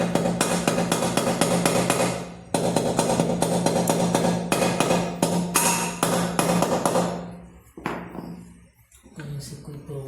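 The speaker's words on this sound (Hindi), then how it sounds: "ठोक देते हैं" Repeated hammer blows on a Honda Activa scooter engine part during engine fitting, a dense run of sharp metallic strikes for about eight seconds, then a pause and a few quieter taps.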